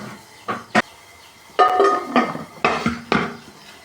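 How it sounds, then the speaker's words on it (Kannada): Washed dishes are stacked away into a cupboard: a series of sharp clinks and clattering knocks of pots and utensils in separate bursts against a quiet room. "ಪಾತ್ರೆ ಎಲ್ಲ ರಾತ್ರಿ ತೊಳೆದು ಕ್ಲೀನ್ ಮಾಡಿದ್ಮೇಲೆ ಇವಾಗೆಲ್ಲ ಕಬೋರ್ಡ್ಗೆ ಎತ್ತಿಡ್ತಾಯಿದ್ದೀನಿ"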